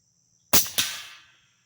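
Two quick, sharp reports from a suppressed POF Revolution rifle fired outdoors, each with a short decaying tail, in a brief burst against near silence.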